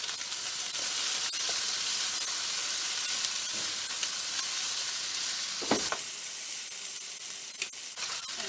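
Vegetable hakka noodles stir-fry in a pan, a continuous hissing sizzle with occasional sharper scrapes and clinks from stirring, close and steady throughout.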